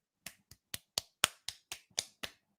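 Nine sharp, evenly spaced claps, each a crisp isolated slap, imitating a seal's flipper clapping, heard close and alone with no talk.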